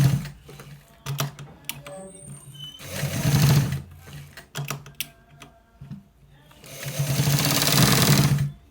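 A sewing machine stitches a V-neck neckline in short bursts of rapid mechanical stitching, with pauses in between and two longer, louder runs, heard close up with no talking.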